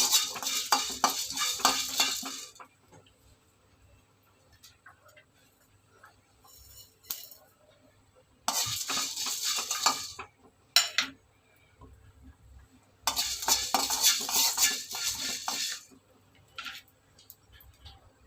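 Fish fries in a pan with no oil added and is stirred in bursts: loud stretches of crackling sizzle and scraping alternate with quieter pauses, plus a few clinks of a utensil against the pan.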